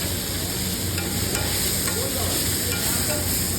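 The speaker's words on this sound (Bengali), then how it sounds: "দেখুন লুচি ভাজা যাচ্ছে" Luchi, puffed flatbread, deep-frying in hot oil at a food stall: a steady, dense sizzle and bubbling hiss that continues unbroken at an even, fairly loud level, with occasional soft stirring in the oil.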